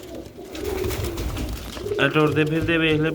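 Pigeons kept for sale coo nearby in low, throbbing bursts, mostly under someone talking.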